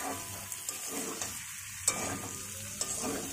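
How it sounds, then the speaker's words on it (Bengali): Pointed gourd and potato pieces fry with spices in a pan. A steady, close sizzle runs throughout, broken by a few sharp scrapes and clinks as the vegetables are stirred. "এবার আগে থেকে পটল আর আলু ভাজা ছিল সেটা দিয়ে ভালো করে মশলার সাথে এবার ভালো করে ভেজে নিচ্ছি।"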